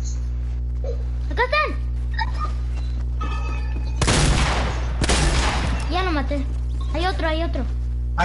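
Gunfire in a video game, several sharp bursts of shots around the middle under a constant low hum, with children talking and exclaiming throughout.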